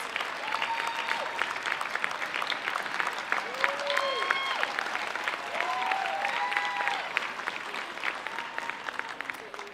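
A crowd at a commencement ceremony applauds graduating candidates in a large hall, with steady, moderately distant clapping throughout. Faint whoops and scattered cheers rise above it.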